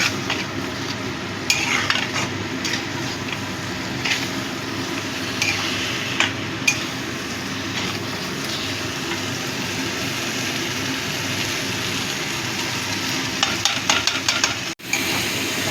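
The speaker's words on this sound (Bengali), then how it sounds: "এটা ভালো করে কষিয়ে নেব।" Prawn malai curry masala fries and thickens in a pan, a continuous close sizzle with scraping stirs and occasional clinks of a spoon against metal, ending in a brief sharp knock.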